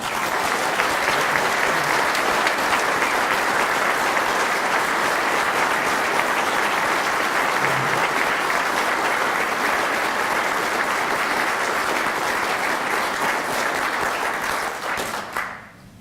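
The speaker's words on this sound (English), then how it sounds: "Let's give them a round of applause, please." An audience gives sustained applause at an Army retirement ceremony, a dense, even roar of many hands clapping for about fifteen seconds before quickly dying away.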